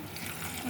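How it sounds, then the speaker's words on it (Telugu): Water poured into a pan of gravy, a short steady splashing trickle heard close up with no talk. "ఇప్పుడు ఆ వాటర్ పోసేస్తున్నాను."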